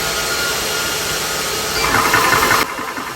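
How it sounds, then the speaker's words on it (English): Electric air compressor running steadily to fill a Beeman 2027 air rifle, a continuous loud mechanical drone with a rougher, busier stretch near the end before it eases slightly. "Turn on the compressor."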